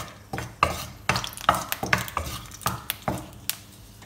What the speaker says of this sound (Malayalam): ചുമന്ന മുളക് ഒന്ന് സോട്ട് ചെയ്ത് കൊടുക്കാം.